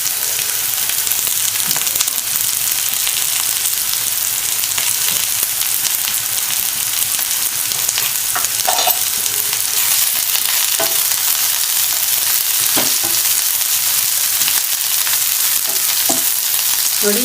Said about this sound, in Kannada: ಇವೆಲ್ಲ ಚೆನ್ನಾಗಿ ಫ್ರೈ ಆಗ್ತಾಯಿದೆ.